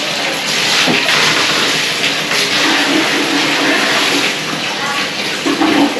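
Free tap water running steadily in a house under renovation, a continuous loud rushing splash with faint background voices.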